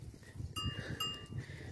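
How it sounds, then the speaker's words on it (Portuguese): Goats on a farm in the caatinga of Brazil's sertão give two short, nasal bleats close by, with quiet rural background noise between them. "É a criaçãozinha de cabra aqui no nosso sertão."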